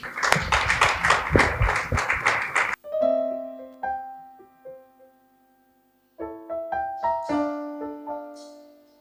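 Dense clapping from a church congregation for a few seconds, stopping abruptly as sustained electronic keyboard notes begin.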